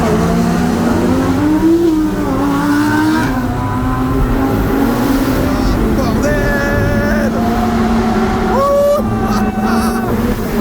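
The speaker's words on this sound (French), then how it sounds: "En plus on a deux autres voitures qui font pas mal de bruit." A Porsche Cayman GT4 and an Audi R8 rev hard inside a tunnel, their engine notes climbing and overlapping in loud, echoing pitch sweeps over a constant heavy drone.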